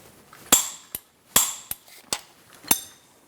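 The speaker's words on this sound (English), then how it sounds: "now we're going to torque this to 85 foot-pounds" Sharp metallic clicks from a torque wrench tightening CV axle bolts on a 2012-2017 Hyundai Accent 1.6L I4, several separate snaps spaced unevenly, close and crisp in a quiet garage.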